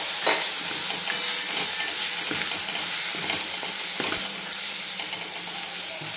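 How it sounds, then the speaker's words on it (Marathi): Finely chopped tomato goes into spices frying in a pan for a drumstick vegetable curry. A loud, steady sizzle carries throughout, with stirring scrapes and bursts of spatter and no talking. "हा टोमॅटो आपण बारीक चॉप करून घेतलेला आहे तो टाकून घेऊ"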